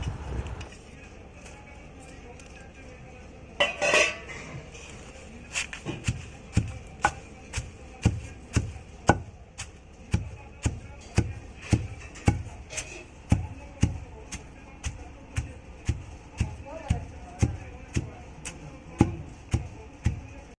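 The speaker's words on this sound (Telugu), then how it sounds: "నెక్స్ట్ మనం వచ్చేసి కరివేపాకు వేసుకొని దంచుకోవాలి బాగా" Curry leaves and onions are pounded in a stone mortar for a Nellore-style chutney, a long series of regular, solid thuds following a lone sharp knock near the start, with no talk over them.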